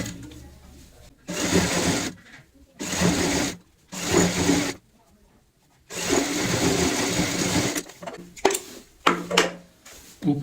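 Sewing machine joining a strip onto a pillow cover with a half-inch margin, running in several loud close bursts of stitching separated by brief pauses.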